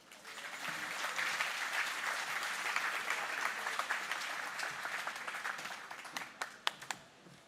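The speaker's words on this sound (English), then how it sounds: "let's give Irv another big, huge round of applause" A crowd at a BB Camp celebration bursts into applause that swells, holds as a dense mass of clapping, then thins into scattered individual claps near the end, heard at a moderate distance.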